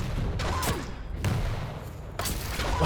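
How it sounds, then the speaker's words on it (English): Rocket launcher blasts go off in a Quake deathmatch, three heavy booming explosions spaced about a second apart, loud and close over a continuous low game rumble. "Oh, huge rockets."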